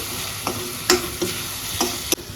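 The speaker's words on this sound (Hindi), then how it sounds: "अब हम इसको करेंगे स्टर स्टर स्टर।" A spoon stirs spices into food in a cooking pan. Scraping strokes land at a steady rhythm against a low background sizzle, close and moderately loud, with no talking.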